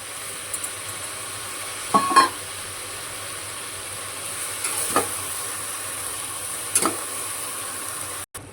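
Washed spinach leaves dropped into a hot pan with salt for Sindhi-style sai bhaji, giving a steady soft sizzle and hiss with a few brief stirring scrapes, close and moderately loud, no talking.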